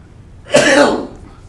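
A single rough cough or throat-clearing burst rises midway and fades over about half a second, close and moderately loud against quiet.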